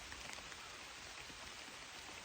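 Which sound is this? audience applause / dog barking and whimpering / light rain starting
light rain starting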